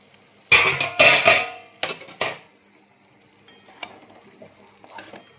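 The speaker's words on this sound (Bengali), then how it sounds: "এবার ঢাকনাটা তুলে একবার নেড়ে দেবো" A lid comes off a pot of chicken tehari with loud metallic clatters and bangs in the first two seconds, followed by quieter spoon scrapes and faint sizzling as it is stirred, no one speaking.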